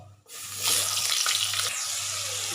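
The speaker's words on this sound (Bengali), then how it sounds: "ওই তেলেই আমি একটা শক্তি লঙ্কা আর দিয়ে ফোড়ন দেবো আর এর মধ্যে আমি আলুগুলোকে ছেড়ে দেবো" Potatoes dropped into hot oil with a dried chili tempering, for a fish-head and potato curry, give a loud steady sizzle that swells after a brief quiet start and holds close by, with a low hum underneath.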